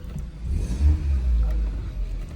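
An Audi A3 8L running smoothly, a steady low engine rumble with a slight swell in revs, close and continuous with no voices.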